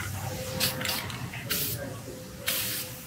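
Guide coat spray paint sprayed from a can in three short hissing bursts, close to the mic, with low background noise between the sprays.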